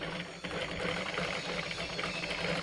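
An ordinary domestic sewing machine stitches embroidery, running as a continuous, fast mechanical whir with a rapid needle clatter at steady, close, moderate loudness.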